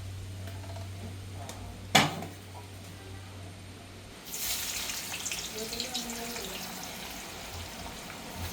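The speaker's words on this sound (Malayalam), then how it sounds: "നമ്മൾ ഈ സവാളയാണ് നമ്മളൊന്ന് ഫ്രൈ ചെയ്തെടുക്കാനായിട്ട് പോകുന്നത്" Sliced onions (savala) frying in oil for chicken biryani in a family home kitchen, a faint sizzle that swells into a steady hiss after a clatter, low and continuous.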